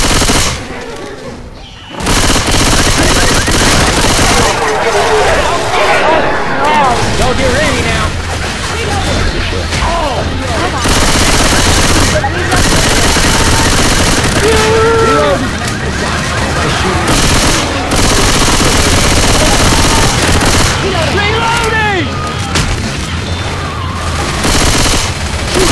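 Rapid automatic gunfire in the Left 4 Dead zombie shooter, level The Parish, with dense, loud, near-continuous bursts and booms filling the whole stretch while voices call out over the shooting.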